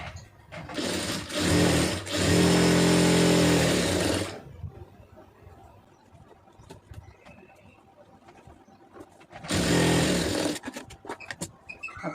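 Sewing machine stitching a small lined blouse runs in two loud bursts, one long run near the start and another shorter one near the end, with a quiet stretch of soft handling noise between.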